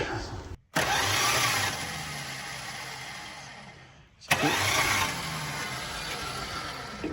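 An old Mopar engine with an engine-mounted battery cranks on a starter with a faulty Bendix drive: two loud, sustained cranking bursts separated by a brief silence.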